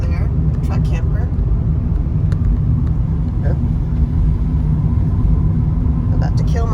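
Steady low road rumble and engine drone fill the cabin of a car on a daytime drive past campers, constant and fairly loud throughout, with a voice talking over it.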